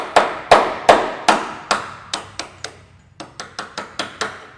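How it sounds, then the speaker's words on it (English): A dozen sharp metallic hammer blows on a punch driving pins during metalwork on a 1959 VW Beetle, steady at first, a brief pause, then a quicker run of lighter taps, close and ringing. "let me get a punch and a hammer."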